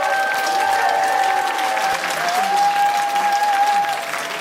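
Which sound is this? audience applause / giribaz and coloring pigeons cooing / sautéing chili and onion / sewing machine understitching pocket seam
audience applause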